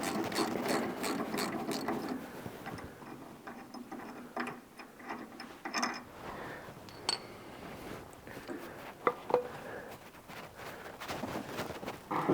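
Wrench ratcheting on a pinch bolt of an Armstrong lever arm shock absorber on a classic car, steady rapid clicking and metallic mechanical clatter, close, with no talk.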